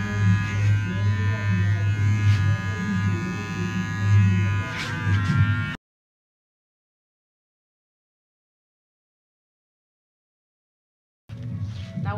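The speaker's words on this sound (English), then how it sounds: "Now with our 5-star shaver, we're gonna shave all along." A Wahl 5 Star electric shaver buzzes steadily and close during a barber's neckline detailing, cutting off abruptly into silence for several seconds before the hum starts up again.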